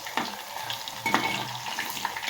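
Food frying in a pan at home, with a steady close sizzle and a few sharp spatters and stirring scrapes, no voices.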